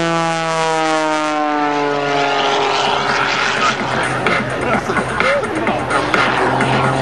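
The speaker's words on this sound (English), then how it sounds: "flies the airplane across the top, rolls right on it" A propeller plane's engine drones steadily during an aerobatic airshow routine, its pitch sliding down and then wavering as it maneuvers, loud and close with a rough, buzzing tone.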